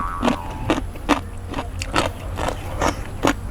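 Someone chewing crunchy raw vegetables served with Ubon Ratchathani-style khao pun, a series of about nine crisp bites and crunches at an irregular rhythm, close to the mic, with no talk.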